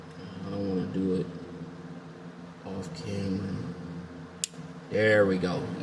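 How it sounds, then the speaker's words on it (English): A single sharp click from a refrigerator relay that keeps cycling and clicking, heard once near the end, brief and distinct against steady background hum, with someone talking before and after it. "That's the click that you hear."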